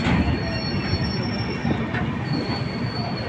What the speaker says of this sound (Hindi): देख सकते हैं आप लोग हमारी ट्रेन पहुंच रही है अकोला जंक्शन